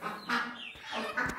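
Village hen in Uttar Pradesh gives a few short, close clucks in quick succession, alone without talk.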